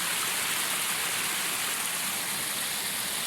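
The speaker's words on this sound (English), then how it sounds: "the murmur of the water is so nice, soothing, calming, great" A forest brook murmurs steadily among ferns and moss in the mountains, a constant close wash of running water with no voices.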